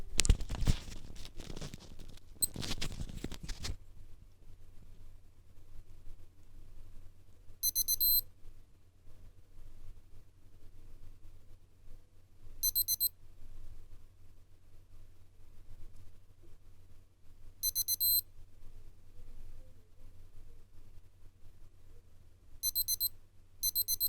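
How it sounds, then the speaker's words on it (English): A Casio AQ-S810W watch counting down gives short, high electronic beep bursts at regular intervals of about five seconds, faint and close against quiet room noise, after a few seconds of rustling handling. "I'm going to put my microphone next to it here so you can hear the different beeps that this watch produces as it's counting down"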